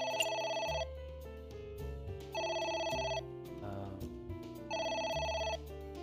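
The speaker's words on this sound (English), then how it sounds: "A phone. Should I pick it up?" A telephone rings in the video game AI: The Somnium Files, sounding in three loud electronic bursts with a steady rhythm over low background music.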